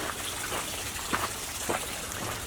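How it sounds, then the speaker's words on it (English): A waterfall in a canyon gives a steady broadband rush of falling water, close and continuous, with a few brief splashy bursts standing out from the constant roar. "there's a waterfall here."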